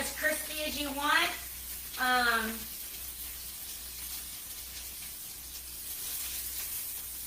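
Pierogies fry in a pan with a steady, soft hiss and sizzle that runs throughout, with a voice briefly heard over the start before the sizzle continues alone.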